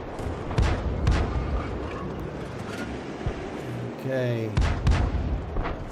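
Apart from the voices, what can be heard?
SU-122A tank gun firing shells in a video game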